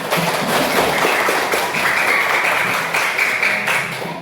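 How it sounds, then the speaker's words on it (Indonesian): Audience applause at a school class presentation, a steady wash of clapping from many hands that carries on unbroken, loud and close, with no voices over it. "Terima kasih, tepuk tangan."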